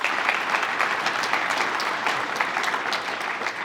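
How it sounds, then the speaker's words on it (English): Audience applause after a university football commencement speech: dense, steady clapping from a large crowd, even in loudness throughout, with no voices standing out. "Let's give him a round of applause."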